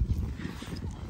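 A tethered horse at a countryside outing in Bosnia makes clip-clop hoof sounds and faint snorting close by, loud and steady over the short moment.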